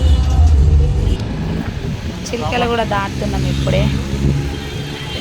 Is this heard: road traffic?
yes